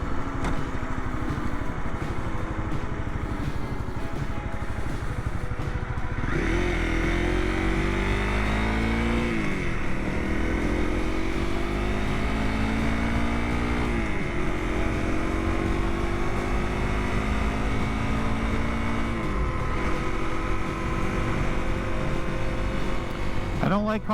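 Busy city traffic heard from a riding motorcycle: its engine drones loud and steady throughout, rising and falling with gear changes, while other cars pass around it.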